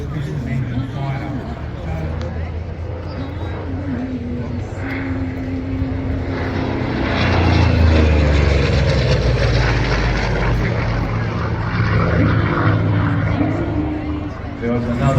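A propeller plane's piston engine drones steadily at an air show, swelling louder midway as it passes, while a voice keeps talking throughout.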